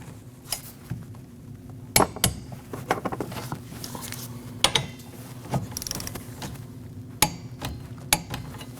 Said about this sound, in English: Then you're going to torque those at 15 foot-pounds.